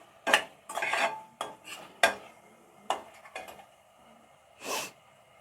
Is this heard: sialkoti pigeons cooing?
no